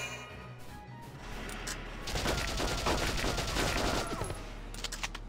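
Sustained machine-gun fire from a machine gunner in the Valkyria Chronicles war game, a dense, loud stream of rapid shots lasting several seconds with crashing impacts mixed in, no talk over it.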